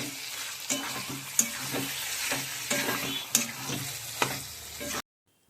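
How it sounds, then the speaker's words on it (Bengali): Ground cashew, poppy seed and melon seed paste is stirred into a simmering chicken curry, giving a steady wet sizzle with periodic spoon scrapes against the pan before the sound cuts off abruptly. "এবারে কাজু, পোস্ত, একটু চারমগজ বাটা দিয়েছি, এটা একটু নেড়ে নেব"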